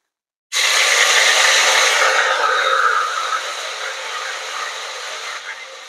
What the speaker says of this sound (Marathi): इथे आपले पातेल्यातलं तेल गरम झालेलं आहे. आपल्याला हे लसूण आलं पेस्ट इथे टाकून घ्यायची.